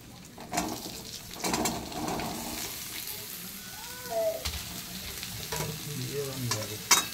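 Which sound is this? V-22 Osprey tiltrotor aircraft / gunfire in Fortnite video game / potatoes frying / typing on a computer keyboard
potatoes frying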